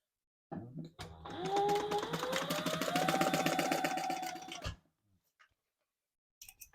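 Sewing machine top stitching card slots onto a leather wallet, a rapid steady mechanical clatter running for about four seconds between short pauses, close and moderately quiet.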